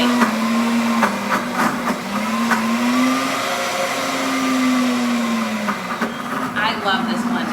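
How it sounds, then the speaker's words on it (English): A countertop blender whirs steadily while turning peanuts into natural peanut butter, with a droning motor tone whose pitch sags and rises as the thick paste loads and frees the blades, loud and close throughout. "I love this blender."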